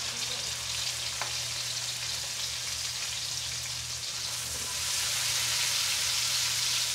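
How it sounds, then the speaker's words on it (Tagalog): Onions sautéing in a pan for a Filipino home dish, a steady close sizzle and crackle throughout, growing slightly louder toward the end, with no talking. "Isa-gisa lang naman."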